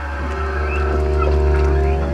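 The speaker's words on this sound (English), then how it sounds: "That's the sound of that southern right and the baby just over there." A southern right whale and its calf are picked up underwater by a hydrophone nearby, producing drawn-out, honking tonal calls over a loud, constant low rumble of water and hull noise.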